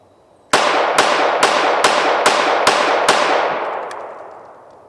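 Seven rapid pistol shots from a Canik TTI Combat ring out at an even quick pace, each a sharp loud crack, followed by a fading echo, outdoors at close range.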